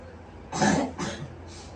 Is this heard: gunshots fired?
no